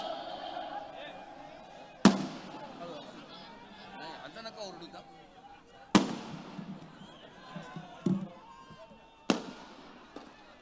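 Sharp firecracker bangs burst out four times at irregular intervals, loud and nearby, during a political rally speech, while a crowd chatters and people talk in the background.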